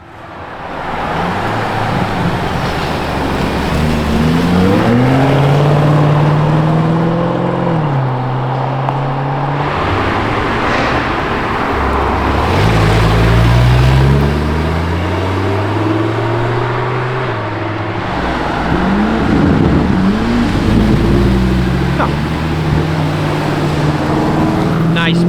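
A Lamborghini Revuelto with its V12 engine drives past on a public road, loud and close, the engine note rising and falling through several revving sweeps over continuous traffic noise.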